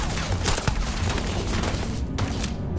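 Gunfire in the video game Starfield comes as a steady barrage, with sharp cracks packed closely over a continuous dense roar. A few shots stand out above it.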